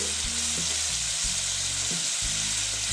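Mustard-poppy seed paste added to hot oil in a pan for a katla fish curry, a continuous close sizzle with a few low thumps and scrapes as it is stirred, no talking.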